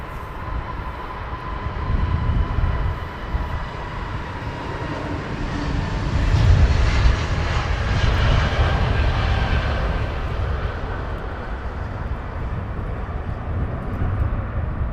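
An airplane takes off at Heathrow Airport, its engines making a loud, sustained roar with a deep rumble that builds and holds, heard from a distance without talk.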